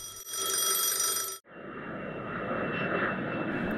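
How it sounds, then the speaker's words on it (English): A fixed-wing airplane roars loud and steady, a broadband engine drone with a brief dropout before it settles into a continuous rushing hum. "Airplane."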